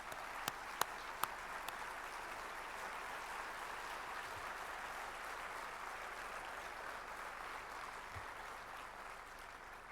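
Steady, sustained applause from a large audience welcoming INSEAD founder Claude Janssen and his wife at a gathering in Abu Dhabi, with a few sharp claps standing out near the start.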